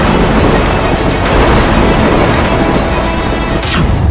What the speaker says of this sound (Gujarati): દક્ષિણમાં ભારે વર્ષા